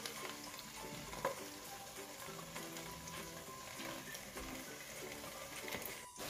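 Continuous sizzling and crackling of mutton frying in a hot pan, with a stirring scrape or two and a brief clatter near the end.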